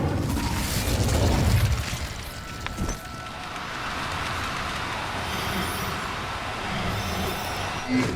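An Incendio fire spell blasts in Hogwarts Legacy, a muffled broadband whoosh that peaks early, then fades into a steady rumbling wash with a soft pop near the end.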